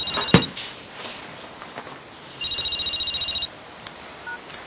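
A telephone rings twice, a short electronic trill near the start and a longer one after a pause, loud and close, with no talk over it.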